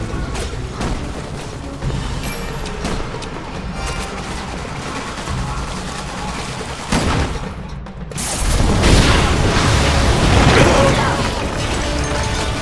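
In Resident Evil 6, shooting a gas source sets off a loud, dense explosion with crackling, rumbling debris, following a stretch of busy game noise with mechanical clatter and scattered bangs.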